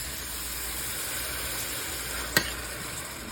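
Diced tomatoes sizzle in a hot pan with a steady, moderate hiss and one sharp click partway through, with no voices.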